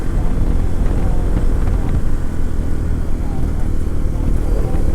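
A motorcycle climbs a steep mountain road on the way from Pokhara to Marpha in Nepal, its engine droning loudly and continuously under heavy wind buffeting.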